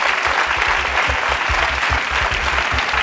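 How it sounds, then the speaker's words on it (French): A studio audience applauds at the close of a French TV quiz show, a dense, steady wash of many hands clapping throughout with no break. "Et le public vous applaudit."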